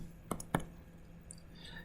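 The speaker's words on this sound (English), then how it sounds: "It's going to be some heavy-duty typing." Calculator keys tapped while entering numbers, a few sharp plastic clicks spaced irregularly over a faint steady hum.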